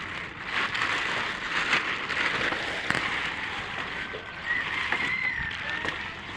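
Steady rain falls at night on an outing to catch fish, a dense continuous hiss with scattered sharper drop hits, fairly close and without talk.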